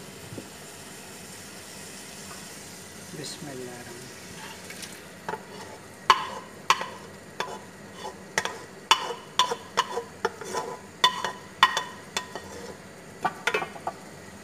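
Cluster beans are added to a frying pan with potatoes and green chillies, a low sizzle under a rapid run of sharp spoon scrapes and knocks against the pan, close and repeated for several seconds.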